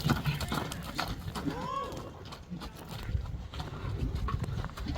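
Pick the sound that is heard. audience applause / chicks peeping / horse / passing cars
horse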